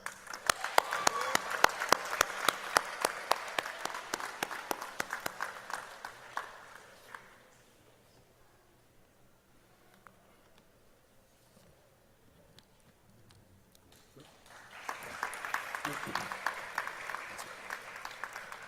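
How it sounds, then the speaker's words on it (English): A graduation audience bursts into applause, loud clapping that fades to near silence at the halfway point, then swells again toward the end. "a round of applause to our UTT graduates"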